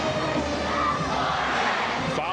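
A home crowd at a 1997 Illinois high school boys basketball quarterfinal, Nashville fans with their cheerleaders, roars and shouts in one dense, continuous wall of noise that stays loud throughout.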